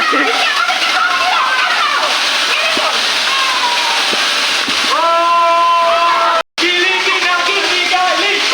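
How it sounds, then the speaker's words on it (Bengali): An artificial rain shower at a water park splashes and hisses in a constant loud wash of falling water, with shrill voices and shouts from people nearby heard throughout. "তো এখন আমরা বৃষ্টিতে স্নান করব"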